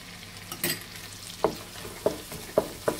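Sautéed onions with tomato paste are stirred in a pan for butter chicken, with a soft sizzle underneath and a few distinct scraping clacks of the spoon against the pan, close by and with no talking.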